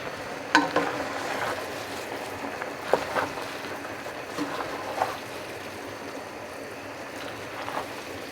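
Sausage frying in a pan during home cooking, with a soft steady sizzle and occasional scraping, clinking stirring strokes against the metal, fairly close and at moderate volume.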